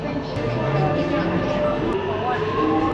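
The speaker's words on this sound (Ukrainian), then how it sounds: "Спочатку закривається вагон метро, а потім закриваються двері, які виводять буквально на платформу станції." A Singapore metro train sits at a station as its doors and the platform screen doors close, with a steady rumbling hum, brief clunks and a voice talking over it.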